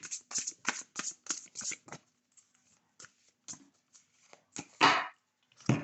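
Oracle cards are shuffled by hand in close, crisp riffling bursts, quick flurries at first, then scattered taps and one louder riffle before a final burst.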